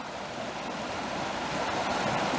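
Water rushes and churns at the foot of a waterfall in a gorge, a steady broadband roar that stays close and constant throughout, with no voices over it.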